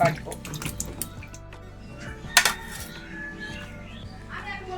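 Peeled ridge gourd and potatoes being rinsed under a running kitchen tap, with water splashing and trickling, a few sharp clinks of vessels, and someone talking over it.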